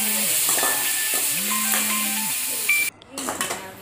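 Vegetables including carrot sauté in a pan for masala pasta, a loud steady hiss of frying heard close up, briefly cut off before resuming with some stirring.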